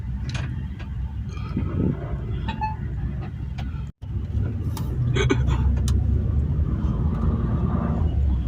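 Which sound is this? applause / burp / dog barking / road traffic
road traffic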